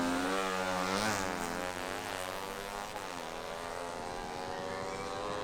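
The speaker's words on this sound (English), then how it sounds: "Listen to that intake sound." A drag racing motorcycle at a Thai drag strip roars at high revs with a loud, sustained intake and engine drone that holds steady near the limit, with no voices over it.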